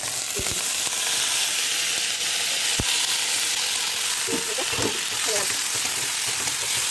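Onions and tomatoes fry in a pan on a home stove, giving a steady close sizzle throughout, with a few soft clinks of a utensil against the pan.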